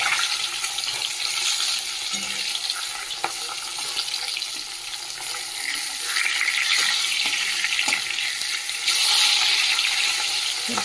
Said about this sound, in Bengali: দেখো মাছটা তো একদিকে ভাজা হয়ে গেছে, ভেজে উল্টে দিচ্ছি, লাল করে ভালো করে ভেজে নিই।